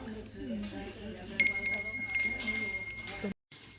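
Small decorative bells, likely Thai or Indian, ring in bright sustained tones for about two seconds, with people talking throughout.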